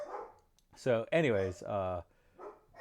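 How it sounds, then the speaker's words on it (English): A German Shepherd and a Bichon bark indoors in a few short bursts that overlap someone talking. "my German Shepherd and other Bichon dog are barking"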